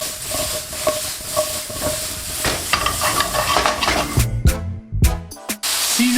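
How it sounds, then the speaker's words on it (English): Mushrooms sauté in hot oil in a pan, giving a loud, continuous sizzle and hiss with stirring, which breaks into sharper clattering scrapes of a utensil toward the end. "When the oil is nice and hot, in with the mushrooms. You want to saute the mushrooms and remove excess moisture."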